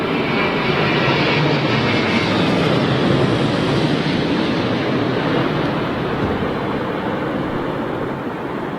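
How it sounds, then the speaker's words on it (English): An Avianca Boeing 787 Dreamliner arriving on runway 27L at London Heathrow produces a loud, continuous broadband jet roar that holds steady and eases slightly near the end, with no voices over it. "This looks like this is Avianca's Dreamliner."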